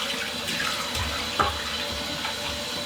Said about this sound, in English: I'm just going to give these fillets a nice wash in cold water.